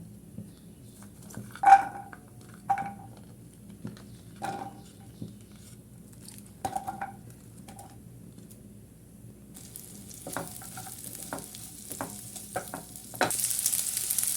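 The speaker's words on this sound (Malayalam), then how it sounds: "ബട്ടറിൽ നമുക്ക് ഈ സവാളയും തക്കാളിയും വെളുത്തുള്ളിയും ഒക്കെ ഒന്ന് വാട്ടിയെടുക്കാം" Onion, tomato and garlic softening in butter in a pan for a mushroom dish, with a low steady sizzle and a few light stirring scrapes and clinks, growing brighter and hissier toward the end.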